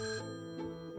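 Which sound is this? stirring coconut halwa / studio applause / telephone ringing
telephone ringing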